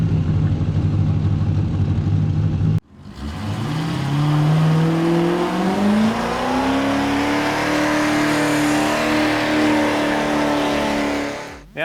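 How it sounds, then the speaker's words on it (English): A Chevrolet C4 Corvette doing a burnout: after a cut, the engine roars up loudly and rises in pitch, holding a strained, sustained rev for several seconds before dropping off abruptly. "this car is quite capable of smoking up the wheels"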